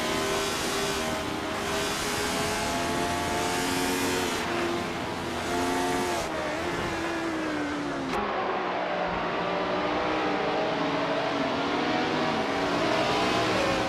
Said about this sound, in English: The race just kicked off at Calabogie Stadium, and leading the pack is Group 6's ZPB Everlasting Apex, in a classic 1971 Ferrari 312 Bigiga.